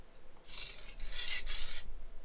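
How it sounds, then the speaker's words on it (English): A cleaver blade is sharpened on a stone using push-pull strokes, section by section, with three close, gritty rasping strokes in quick succession and no talk. "we're going to just do a push-pull method, and we'll sharpen a section at a time"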